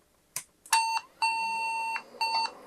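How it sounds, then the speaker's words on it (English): An IBM PC 5150 powering on gives a soft click, then three clear electronic diagnostic beeps: a short one, a long sustained tone and a brief final beep, close and alone. "if I turn this on, I think we'll hear at least some beeps and maybe a click of the cassette relay"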